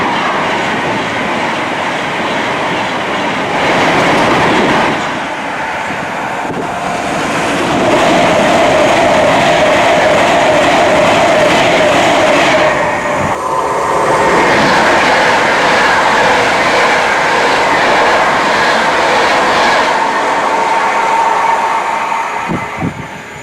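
A Pendolino passenger train on the West Coast Main Line passes close by, a loud sustained rumble and rush of wheels on rails with some clatter, swelling and fading over about twenty seconds.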